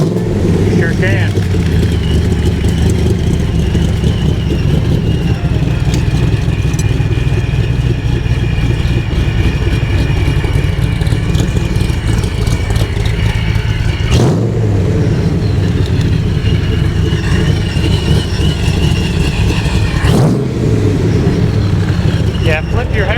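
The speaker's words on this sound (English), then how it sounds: "You can hear that Procharger." A 1965-style Factory 5 Cobra with a Procharger supercharger runs close by in a steady, loud, throaty drone, with a couple of brief sharp spikes and voices faintly over the engine.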